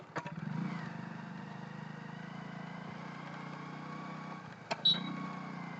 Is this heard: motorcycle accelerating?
yes